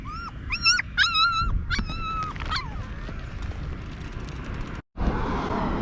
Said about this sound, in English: I just noticed these little puppies.